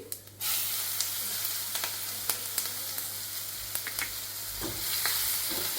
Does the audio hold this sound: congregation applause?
no